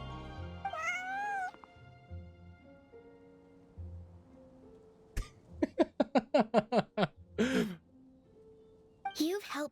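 A large cat in Genshin Impact lets out a string of rising meows, a short burst of repeated calls and a final cry, over quiet background music, with a voice heard briefly.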